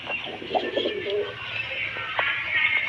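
Pigeons at a pigeon seller's in Beldanga, Murshidabad, cooing softly in a steady, overlapping murmur, with a few brighter chirps and flutters mixed in, fairly close and continuous.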